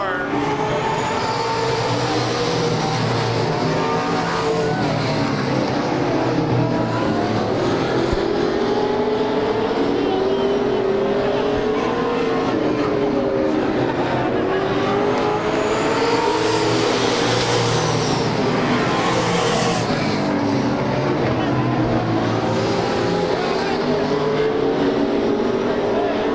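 Race cars roar around Claremont Speedway during 1996 weekly racing, with engine drone swelling and fading as cars pass, loud and continuous under a commentator's talk.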